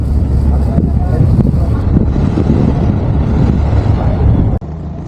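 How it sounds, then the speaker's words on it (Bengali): The large Sundarban-16 passenger launch passing under Postogola bridge on a river, a loud steady low rumble of engine and wind filling the air, close, with someone talking over it before it abruptly drops quieter. "সুন্দরবন ষোলো লঞ্চটি এখন পোস্তকলা ব্রিজ অতিক্রম করতেছে"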